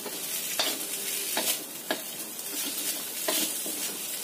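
Seasoning being stirred into food in a frying pan while cooking an Indonesian snack, a steady close sizzle with repeated scraping strokes of the spatula against the pan, no talking.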